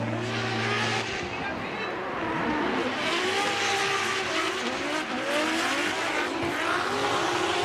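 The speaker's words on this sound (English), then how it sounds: "Hiroya Minoa in the Cusco Racing GR Corolla. And in the chase, we've got Kenshiro Gushi driving Team Kazama with Moti's Lexus" Two drift cars at Formula Drift Japan, a Cusco Racing GR Corolla chased by a Lexus, with engines roaring and revving at a distance and tires squealing, under a commentator's voice.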